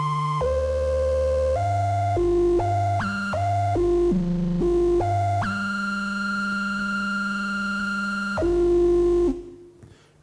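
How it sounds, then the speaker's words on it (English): Optical sine wave synthesizer stepping and sweeping through octaves, a loud, pure electronic tone jumping between pitches in quick steps, then holding a long steady note before dropping lower and fading out, with no voices. "So what you heard right now was a version of a sine wave. It's an optical sine wave."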